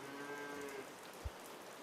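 A cow in a video game gives a single short moo near the start, faint and brief, followed by a low thump over a soft, steady background hiss.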